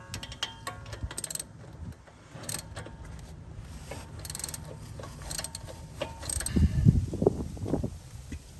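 A small tool turns a sway bar end link bolt on a Jeep, giving close, irregular metallic clicks and ratcheting scrapes, with heavier clanking and rattling toward the end.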